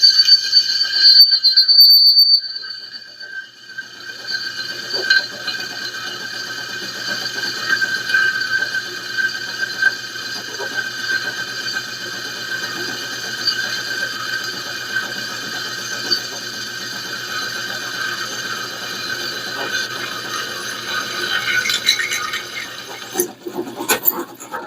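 A drill press boring a hole in metal without oil, a steady high-pitched squeal and whine holding for about twenty seconds after a brief louder start, with faint mechanical rattle underneath.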